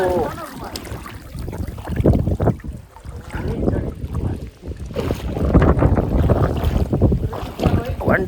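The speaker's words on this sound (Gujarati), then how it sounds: "વંટોળિયો આવ્યો છે મિત્રો." A strong whirlwind gusting at an outdoor swimming pool, heavy low rumbling buffeting against the microphone that rises and falls in surges, with a voice briefly audible at the start.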